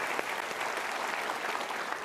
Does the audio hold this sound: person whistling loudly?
no